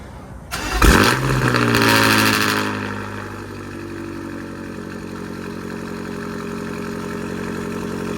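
A straight-piped BMW M5 Competition with no exhaust valves fires up with a sudden loud bark and roar, then settles into a deep, steady rumbling idle.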